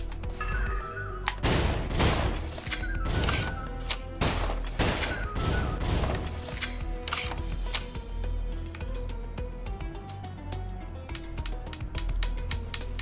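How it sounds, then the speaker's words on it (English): Dual-wielded shotguns firing in the video game Dungeon Munchies: a burst of rapid, loud blasts in quick succession that thins into scattered clicks, all over a steady background of game music. "Which means I can dual-wield shotguns."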